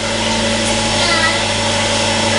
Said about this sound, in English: we have to grind some